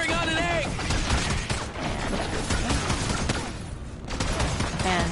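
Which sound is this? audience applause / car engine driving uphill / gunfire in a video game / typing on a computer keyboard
gunfire in a video game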